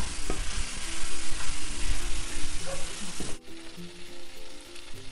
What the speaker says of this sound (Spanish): Vamos a seguir removiendo y rompiendo la carne